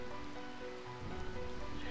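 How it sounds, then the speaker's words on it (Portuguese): Rain falling in the video game Final Fantasy IX, a soft, even hiss of steady downpour under faint tonal game music, quiet and continuous with a slight swell partway through. "Acho essa chuva bem agradável."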